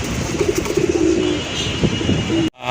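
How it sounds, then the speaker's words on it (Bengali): Silver adult pigeons of a Rajshahi fancy breed give soft, low, repeated coos at close range, with a few throaty calls over quiet background noise before the sound cuts off abruptly near the end. "আরেক জোড়া কবুতর"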